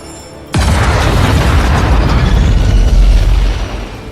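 A sudden loud explosion bursts in after a brief quiet moment, followed by a sustained heavy rumble and roar that slowly fades.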